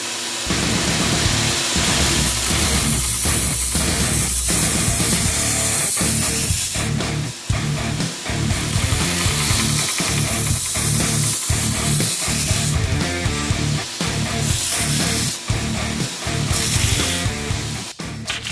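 Wakizashi handle pieces with stingray skin and glued-on trim are ground on a power grinder, a loud, harsh, steady abrasive roar that pulses with repeated brief dips as the work is pressed and lifted, with no talk.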